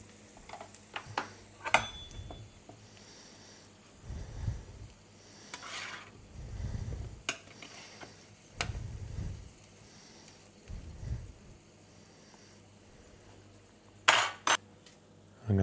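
Roast potatoes with bacon and thyme being turned in a pan, with a few soft scraping and rubbing strokes and light clinks of a utensil, several separate low bursts over a quiet background with no talking.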